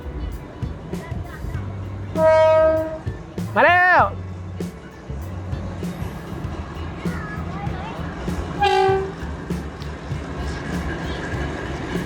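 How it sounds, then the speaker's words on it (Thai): An electric train rumbles past near a cafe in Kanchanaburi, Thailand, sounding its horn in three loud, short blasts over the steady rolling noise, with someone talking excitedly throughout. "มาแล้วนะครับไฟฟ้ารถไฟรถไฟรถไฟ"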